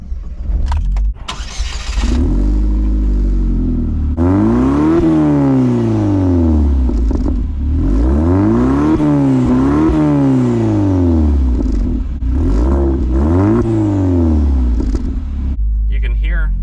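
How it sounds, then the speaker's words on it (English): A Pontiac Solstice GXP Turbo engine starts up, then revs repeatedly, its pitch rising and falling in several loud sweeping blips close by, settling back to idle between revs. "But we're gonna fire it right up. I'll let you hear some revs."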